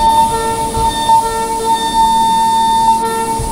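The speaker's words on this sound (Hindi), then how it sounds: "रियल वर्ल्ड में ना ऐसा ही अलार्म टाइप का हॉर्न बजाया जाता है ताकि हमारे ट्रेन मैनेजर जी को पता चल जाए।" After the chain is pulled on the Saurashtra Mail in Train Simulator (RailWorks), an alarm-type train horn sounds as a steady, continuous electronic tone with faint pulsing, loud and unbroken, with no voices.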